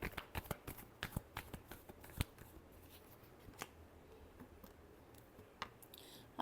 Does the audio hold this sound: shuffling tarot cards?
yes